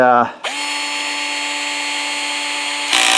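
A Milwaukee M12 cordless PVC pipe shear runs with a steady, loud motor whine that holds for about two and a half seconds after a brief clatter, then cuts off into a short burst of mechanical noise.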